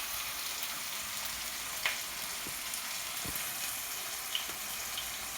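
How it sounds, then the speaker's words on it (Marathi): Diced potatoes fry in ghee in a pan for fasting-style sabudana khichdi, a steady broadband sizzle with a few faint clicks and light stirring taps, close and unbroken by talk. "चांगलं परतून घ्यायचे बटाटे तुपात."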